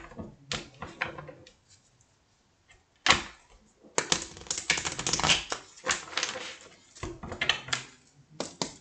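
Tarot or oracle cards are shuffled in bursts of crisp riffling and tapping, loud and close, with short pauses between rounds and no talking.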